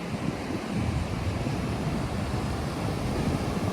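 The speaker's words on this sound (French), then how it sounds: "Franchement il y a des jolies vagues" Ocean surf breaks on a Florida beach in a steady, loud wash of rolling waves, mixed with strong wind buffeting the microphone, and no voices.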